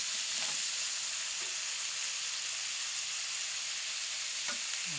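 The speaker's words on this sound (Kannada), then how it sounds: "ಸ್ವಲ್ಪ ಹಾಗೆ ಲೋ ಫ್ಲೇಮ್ನಲ್ಲಿ ಹುರಿದುಕೊಳ್ಳಿ." Ingredients for a village-style country chicken sambar fry over a low flame in a steady, even sizzle with no break. A few faint clinks from stirring come through, and no one speaks.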